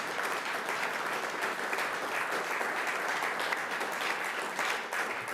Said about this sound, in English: if we could give a round of applause to this fantastic group of young people